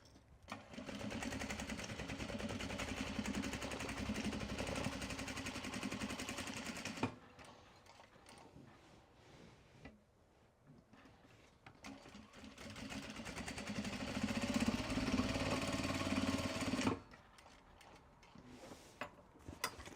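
A sewing machine stitching the final seams of a tote bag upcycled from an obi, running in two long steady bursts of rapid mechanical whirring separated by a quieter pause, close and continuous.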